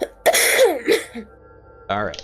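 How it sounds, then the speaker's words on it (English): A single short cough rings out during a relaxed tabletop role-playing session, followed by brief speech and another throaty burst near the end. "No, that was a cough."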